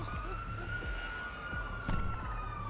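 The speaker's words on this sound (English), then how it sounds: "I hear sirens." Police sirens wail in a roleplay video game. The steady, continuous siren tone sits at moderate distance against a low background rumble.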